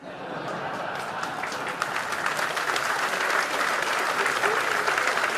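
A large crowd at a political leadership hustings in Darlington applauds steadily, a dense, sustained wash of clapping that swells slightly toward the end.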